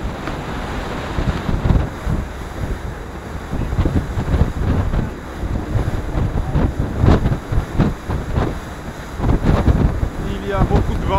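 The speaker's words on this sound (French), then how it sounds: "Il y a beaucoup de vent." Strong gusty wind buffets the microphone on a boat heading up the St. Lawrence River, with rushing water and surf underneath, loud and close, rising and falling in blasts throughout.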